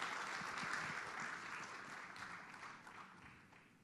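A faint round of applause from an anniversary gathering of a Neighbourhood Watch group on the Gold Coast, with dense clapping that begins full and gradually thins and fades toward the end.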